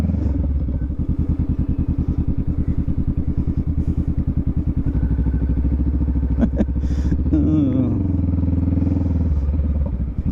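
A Honda Rebel 500 motorcycle is ridden with its engine thrumming in a steady, loud, low pulsing beat, with a brief clatter and a short rise in revs near the end.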